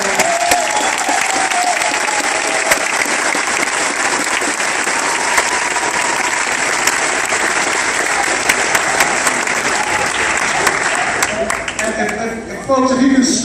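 Loud, sustained round of applause from a lecture audience, thick and continuous, thinning toward the end as a voice begins speaking over it.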